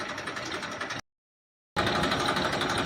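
Massey Ferguson 1035 DI tractor with a 39-horsepower, fully rebuilt engine idling in a steady, close, even rumble that cuts out to silence for under a second before resuming.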